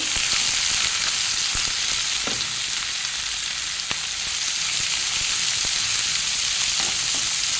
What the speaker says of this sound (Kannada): ಮೂರು ದೊಡ್ಡ ದೊಡ್ಡ ನೀರುಳ್ಳಿ ತೆಗೆದು ಕಟ್ ಮಾಡಿ ಇಟ್ಕೊಂಡಿದ್ದೇನೆ ಅದನ್ನು ಹಾಕ್ತೇವೆ ಹಾಕ್ಕೊಂಡು ಚೆನ್ನಾಗಿ ಫ್ರೈ ಮಾಡಿ